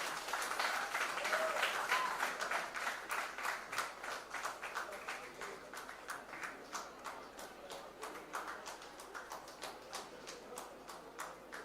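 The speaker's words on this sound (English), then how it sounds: "A big round of applause to Maya." Audience clapping fills a convocation ceremony hall for a PGDM graduating class as a medal is presented, a dense, steady round of applause that tapers gradually toward the end.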